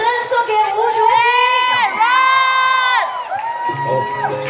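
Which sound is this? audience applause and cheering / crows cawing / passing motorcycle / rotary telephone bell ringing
audience applause and cheering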